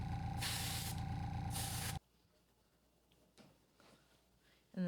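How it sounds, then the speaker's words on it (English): Two short, close hissing bursts from a spray paint can, followed by quiet handling noises and a brief final hiss at the end. "You just kind of spray wherever you feel it would look good."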